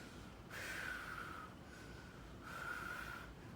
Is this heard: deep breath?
yes